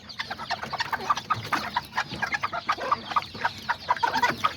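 Miniature Azteca hens cluck and chirp in a steady, busy stream of short calls, fairly close and moderately loud, with no talking.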